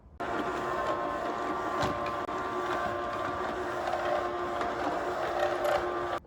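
A Multilaser HO041 robot vacuum cleaner runs steadily with a continuous motor whir and hum, moderately loud and close, with no speech.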